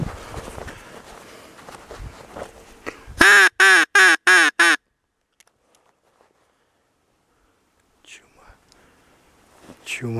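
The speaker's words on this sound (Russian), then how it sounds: "Утки крякают в камышах." A burst of five loud, nasal duck quacks in quick succession from ducks in reeds, preceded by rustling and followed by near silence with faint distant sounds.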